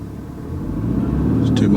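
A car's engine rising in pitch and loudness as too much throttle is given while pulling away in a car park, a mid-range engine drone swelling over a couple of seconds with a voice talking over it.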